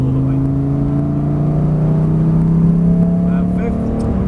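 A Lamborghini accelerating hard on a driving-experience track, its engine a steady loud drone rising slowly in pitch from inside the car, with an instructor's voice heard over it.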